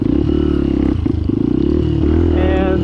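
Benelli TNT 135 motorcycle climbing a steep off-road hill, its small engine droning loud and close with rhythmic pulsing, brief dips as the throttle shifts, and rising revs toward the end.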